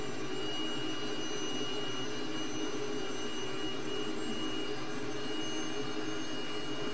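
Steady, loud roar of a T-37 jet aircraft engine, a small military trainer jet at high power, with a continuous whine and no breaks, heard close up without talk.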